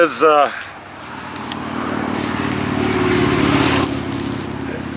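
After a short vocal sound, an electric chainsaw motor whines steadily with a rough buzzing as it cuts a tree trunk, holding close and fairly loud throughout.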